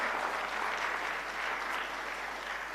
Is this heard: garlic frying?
no